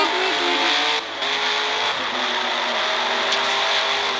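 Race car drifting in a video game, a loud continuous engine drone with shifting pitch and a brief dip, close and steady with no voices.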